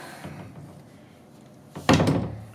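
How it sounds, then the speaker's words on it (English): The sliding starboard door of an OEV X10 caravan rolls along its track with a soft rumble, then shuts with a single loud, close thunk that rings briefly and fades. "Sliding starboard door."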